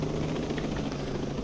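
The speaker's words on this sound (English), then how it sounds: "I like that black, gray, and white helicopter." A steady, loud helicopter rotor and engine drone in the video game Ghost Recon Breakpoint, continuous and even throughout with no talk over it.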